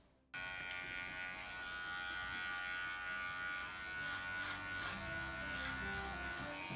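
Electric clippers set to a 1.5 mm guide buzz steadily through a Westie-type dog's coat, switching on abruptly and running close and continuous with a slight wavering as they move through the fur.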